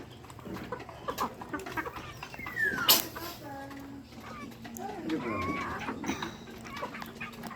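Chickens cluck near a duck in a backyard, with scattered clucks and a sharp squawk mixed with people talking nearby.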